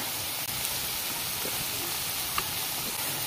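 Tea bondas frying in hot oil, a steady dense sizzle and hiss holding evenly close by, with a couple of faint soft pops and no voices over it.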